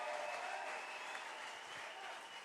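Church congregation at a Sunday service applauding, a steady, dense wash of clapping from many hands that holds evenly throughout.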